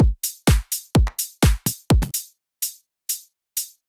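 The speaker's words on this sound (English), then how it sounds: "And for the second part I have this close hi-hats" Closed hi-hats in a future bounce track play a crisp, bright ticking pattern of quick hits layered with deep kick thumps at first, then thin out to sparse isolated hat ticks, alone without voices.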